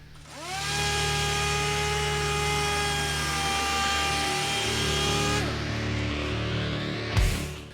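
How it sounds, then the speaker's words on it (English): A power sander spins up and runs steadily on urethane primer over epoxy primer on the plastic body panels of a 1984 Honda ATC 110 three-wheeler, a close, sustained whine that winds down near the end. "I'm sanding out the rough texture while making sure I don't break through to the epoxy primer below."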